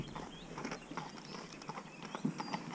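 Several horses clip-clop past on a country road, their hooves striking the tarmac in a steady, uneven patter at close range. Heard from a motorcyclist pulled over at the roadside, with a faint low rumble beneath.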